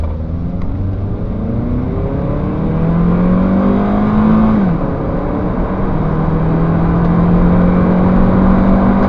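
A 2008 Honda Accord 2.0 i-VTEC automatic accelerates hard from a standstill, engine note rising steadily through the gears, loud and continuous from inside the car.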